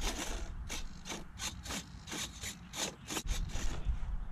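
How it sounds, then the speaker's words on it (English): Small servos on a homemade model jet whir in quick repeated bursts as the control surfaces flick back and forth, a rhythmic mechanical buzzing over faint background noise with no talking. "Make sure my control surfaces are going the proper direction"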